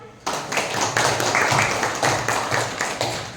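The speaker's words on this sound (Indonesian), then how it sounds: "Tepuk tangan." A roomful of people claps hands together in a dense, steady burst of applause that carries for about three seconds, close and fairly loud.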